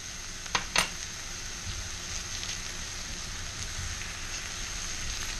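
Butter sizzles and spits in a pan before liver goes in, a soft even crackle after two sharp metallic clinks near the start.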